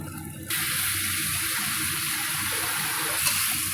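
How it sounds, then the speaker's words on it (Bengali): Water poured into a cooking pot for a green mango sour dish, a sudden steady rush of close, bright pouring that starts abruptly and continues evenly. "এবার সামান্য পরিমাণ জল দেব"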